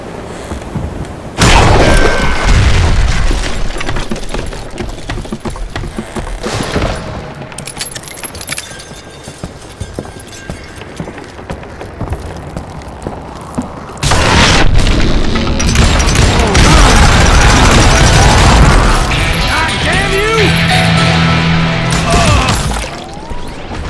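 Dynamite charges exploding in the western shooter Call of Juarez: Gunslinger, two loud booming blasts about twelve seconds apart, each followed by crashing debris and rumbling.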